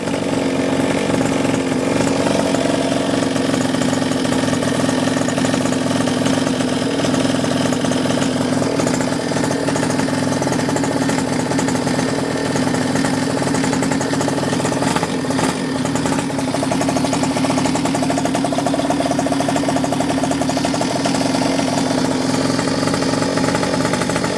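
A small mini motorbike engine, pull-started after restoration, runs continuously with a loud, buzzy, steady idle and slight wavering for over twenty seconds, close by and without speech.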